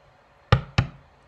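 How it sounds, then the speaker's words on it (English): Two sharp thuds of cats banging against a door, about a quarter second apart, close and loud in an otherwise quiet room. "that's the cats banging on the door"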